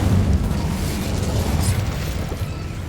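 A dense, rumbling burst of fire from an Incendio spell cast in Hogwarts Legacy fills the moment, loud and steady with a whooshing low roar and no voices.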